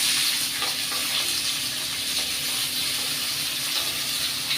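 Sliced onion frying in hot mustard oil in a pan, a steady, loud sizzle and hiss with no talking.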